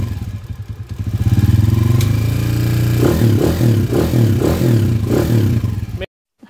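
A motorcycle engine with upgraded cams and a ported head idles loudly and then revs in several sharp, throaty bursts, close by, before cutting out abruptly.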